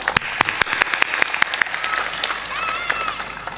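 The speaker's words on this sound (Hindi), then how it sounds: "ये कमजोर तालियों को सुन करके मन में बड़ी निराशा आ रही है" Sparse, weak applause from an audience at a spiritual discourse. Separate claps ring out loud and close at first, then thin into a softer ragged patter, and a voice speaks over the end.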